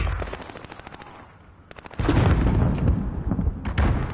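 Sustained machine gun fire in a video game shooter's Hardpoint mode, rapid dense bursts that drop off, return briefly, then resume louder and close, with explosive thumps mixed in.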